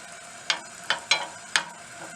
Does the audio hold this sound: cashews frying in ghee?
yes